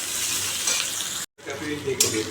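Ground spices, black pepper and cumin powder, frying in a pan until reddened, a loud continuous sizzle with stirring, broken by a brief dropout midway, no one talking.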